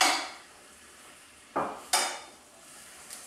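Chopped Brussels sprouts are stirred in a sauté pan, with a soft scrape followed by two quick utensil-on-metal clanks and a faint later tap over a quiet background.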